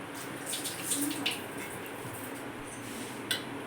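Water pouring steadily into a bowl of flour batter nearby, a continuous trickling splash with a few brief gurgles, no talking.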